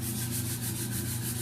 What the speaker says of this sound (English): We want to take the sandpaper and just lightly go over top